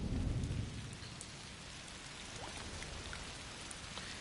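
Steady rain from the video game A Plague Tale: Requiem, a soft continuous patter with a louder burst at the start before settling into an even hiss, no voices.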